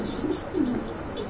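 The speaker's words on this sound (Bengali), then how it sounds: "মাশাআল্লাহ কতটা অ্যাক্টিভ আর ফ্রেশ কবুতর।" Soft, low pigeon cooing from a male and female breeding pair of domestic pigeons, two or three quiet rolling coos over a steady background hiss, with no voices.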